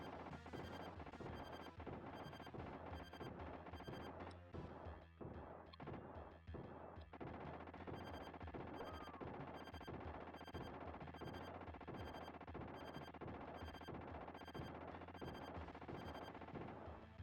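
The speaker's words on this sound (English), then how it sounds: "I suppose I just shoot it until it blows up" Gunfire in a SNES light gun shooting gallery game, rapid repeated shots blending with crashing, clattering impact effects in a dense, continuous barrage, fairly quiet overall.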